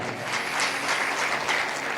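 A church congregation claps loudly during a Punjabi sermon, a dense, steady wash of applause that holds strong for about two seconds.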